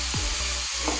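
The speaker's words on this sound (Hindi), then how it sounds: "बारीक काट के टमाटर इसके अंदर मैं शामिल कर दूँगी" Finely chopped tomatoes fry together with beetroot in a pan, giving a brief, steady sizzling hiss with a soft stirring shuffle.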